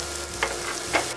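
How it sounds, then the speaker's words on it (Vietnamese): Minced lemongrass frying in oil in a pan over low heat, a steady soft sizzle with two brief louder crackling bursts, close and without voices. "phi vàng cái phần sả băm còn lại ha."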